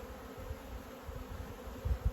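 A bee swarm that has escaped from its hive buzzes in a steady low drone outdoors, rising in loudness toward the end with a few louder close passes.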